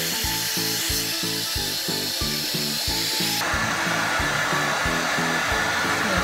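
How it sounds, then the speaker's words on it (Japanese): A hair dryer blows loudly and continuously at a barbershop, with rhythmic rubbing of hands through closely cropped hair at the roots while it is styled into a pompadour. "根元をこするように乾かして立ち上がりがつきやすくなります。"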